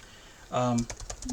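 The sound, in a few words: typing on an old computer's keyboard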